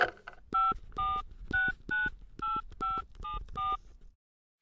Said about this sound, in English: grabbed the phone and dialed the number of the office in Paris that made the bookings